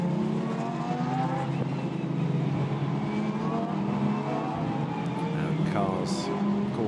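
Lamborghini Super Trofeo race cars climb through a corner at Spa during a 2021 European race, a continuous layered engine roar under a commentator's voice.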